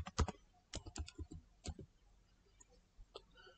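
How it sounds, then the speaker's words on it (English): Keys on a computer keyboard are pressed in a quick burst of crisp, close clicks, followed by a few scattered, fainter taps in an otherwise quiet room. "type PowerShell."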